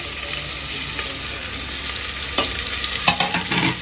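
Onions tossed into hot oil in a pan for egg biryani, frying with a steady sizzle while a spoon scrapes and stirs in a few distinct strokes near the end.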